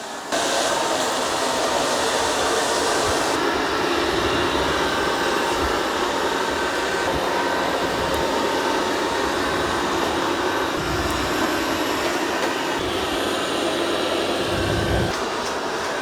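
A Dreame robot vacuum and mop working over muddy paw prints on a kitchen floor, a loud steady whirring motor drone with slight shifts in pitch as it moves along.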